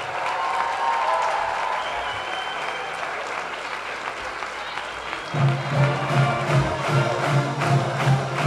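A crowd at a press conference applauds the newly named 14th President of the University of Oklahoma, steady dense clapping that swells louder and fuller partway through, with faint voices mixed in.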